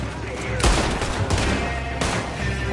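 Rapid gunfire in the Western video game Red Dead Redemption 2, a loud continuous fusillade of overlapping shots with sharp bursts standing out over a dense din of battle, close and intense.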